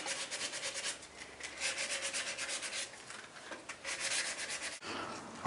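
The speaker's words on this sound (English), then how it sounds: "I will go back and look at other areas that may need sanding." Hand sanding of a primed Hulk trophy, a steady close scratchy rubbing in quick back-and-forth strokes, with a brief pause near the end.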